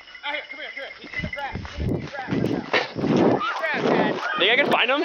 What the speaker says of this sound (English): Dog is going crazy.